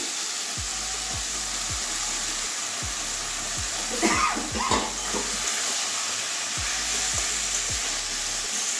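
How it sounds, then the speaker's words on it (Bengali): Potatoes, pointed gourd and jackfruit seeds sizzle steadily in a pan, a continuous frying hiss with regular scraping stirs and a brief louder clatter midway. "আবারও সবগুলো একসঙ্গে কষিয়ে নেব"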